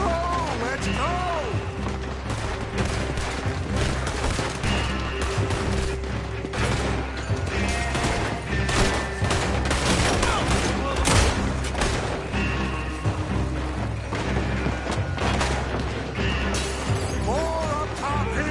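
Gunfire rattles continuously in a Red Dead Redemption 2 shootout, dense repeated shots and crashes layered over game music and shouting voices throughout.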